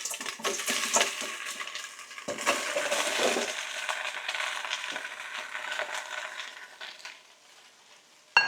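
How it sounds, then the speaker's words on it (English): Curry sausages sizzle in a pan with chopped vegetables such as carrot. The frying crackles and hisses continuously at close range, with scraping stirs, before fading toward quiet. "in with our sausages"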